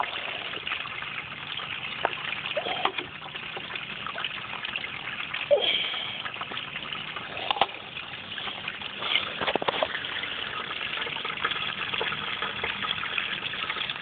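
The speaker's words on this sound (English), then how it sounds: "If you try to introduce too much water to this bucket sluice, it has a tendency to wash the stuff right out." Water washes steadily through a bucket sluice used for gold panning, a continuous close trickling and gushing flow with a faint mechanical hum beneath it.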